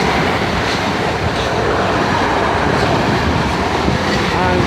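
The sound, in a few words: South West Trains electric train passing at Eastleigh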